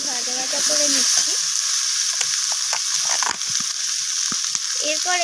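Potatoes and papaya tossed with ground spices and ginger paste sizzle steadily in a hot pan, with scattered scraping clicks from stirring and faint tonal sounds in the background.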